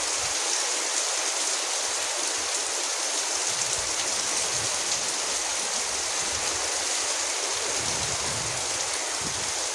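Very heavy rain pours down over a village as a dense, loud, unbroken hiss with no pauses, drowning out everything else.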